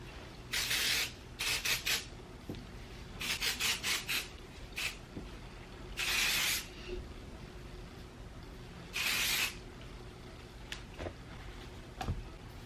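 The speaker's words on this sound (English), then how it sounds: "I literally just spray it in and then tousle my hair with my hands" Texturizing hair spray misted onto hair in several bursts, some short and some longer hisses with pauses between them, close and clear with no talking.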